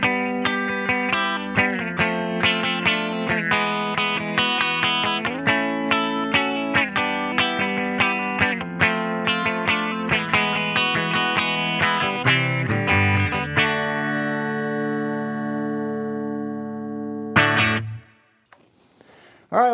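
Epiphone 1961 Les Paul SG electric guitar in the middle pickup position with both pickups on, strummed chords and picked notes ringing steadily, then a long sustained chord fading to near silence and a final short strum.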